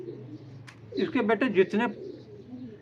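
A Teddy Ferozpuri pigeon gives a brief rolling coo in the middle, close and moderately loud, under a voice speaking Hindi-Urdu nearby.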